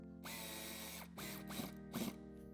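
Power drill working a screw on a 2025 Kia EV5 during a tow hitch install, several short whirring bursts close up with pauses between, over a steady background hum.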